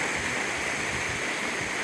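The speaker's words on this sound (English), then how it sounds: "It's such a fast flowing stream" A fast-flowing stream in Sri Lanka near Lanka Ella waterfalls, a steady, dense rush of water with no breaks, moderately loud and close, without voices.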